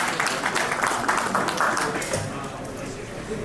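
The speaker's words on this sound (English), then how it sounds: "let's give a huge round of applause for them" Audience applause greets two guest speakers at a talk on advertising, a dense wash of clapping that stays strong, then gradually thins toward the end.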